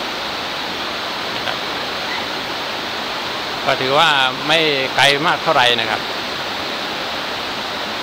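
Waterfall at Khao Chamao national park in Rayong, a steady broadband rush of falling water running through the whole stretch, with someone talking over it midway.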